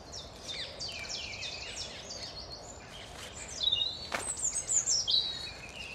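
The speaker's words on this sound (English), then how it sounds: "The birds are going ballistic around me." Woodland birds keep up busy chirps and twittering calls that overlap, quiet and a little distant, growing more frequent toward the end over faint ambient hiss.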